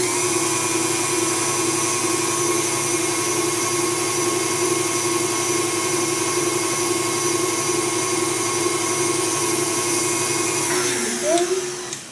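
An electric mixer with a whisk beats strawberry cheesecake crepe filling to stiff peaks, a steady, loud whine that holds for several seconds before cutting off near the end.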